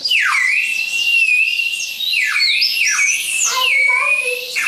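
A water-filled whistle gives a warbling, bubbling trill continuously, its pitch swooping and wavering like birdsong, loud and close.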